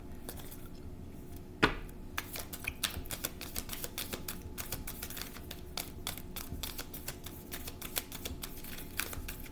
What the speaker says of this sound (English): The card's a bit stiff. That's why they're shuffling like that.